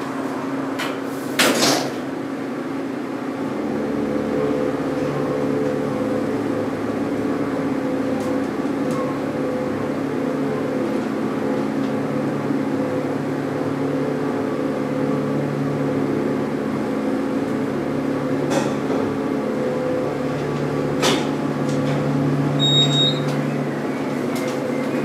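Montgomery hydraulic elevator modernized by Kone at a station, its motor running as a steady low hum and whine for the whole stretch, with a few sharp clicks and knocks near the start and later.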